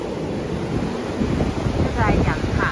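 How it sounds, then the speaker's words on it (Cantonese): Strong wind gusting across a bridge by a waterfall near Buffalo, a loud, rushing roar buffeting the microphone with a watery surge underneath, steady and close throughout. "但係好大風。"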